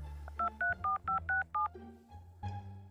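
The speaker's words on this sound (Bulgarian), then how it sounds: "Чакайте и да звънна на баща ми." Five quick DTMF keypad tones beep in a steady rhythm as a telephone number is dialed, each a bright two-note pulse, followed by a faint line click and a low hum.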